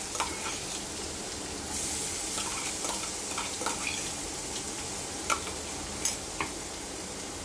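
Ground chilli, ginger and garlic stirred in hot oil with cumin and curry leaves, a medium, steady sizzle overlaid by intermittent spoon clicks and scrapes against the pan, sharper knocks near the end; nobody speaks.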